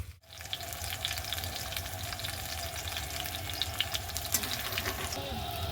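Potatoes fry in a pan over a gas burner at a rooftop picnic, a dense, steady sizzle running unbroken throughout with faint clatter above it.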